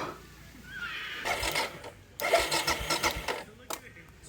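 Suzuki DR650 motorcycle with a blown wiring loom, no tank and no fuel, cranking on the starter without firing: close, uneven churning bursts in two main stretches, with a faint whine beforehand.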